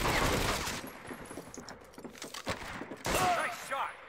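Gunfire from the World War II shooter game Medal of Honor: Vanguard, with loud bursts of rapid fire at the start and near the end and sharper scattered shots in between.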